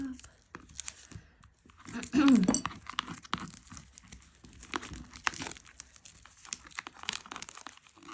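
Plastic wrap is torn and crinkled off a new oracle card deck, with a burst of tearing and crumpling close by followed by lighter scattered crinkles, while a person speaks over it.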